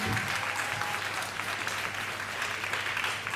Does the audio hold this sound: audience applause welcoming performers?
yes